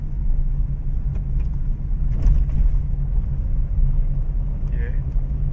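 Car engine in a driving lesson, revved to about 2000 RPM as the learner shifts into second and then third gear; a steady low rumble runs throughout with a voice talking over it.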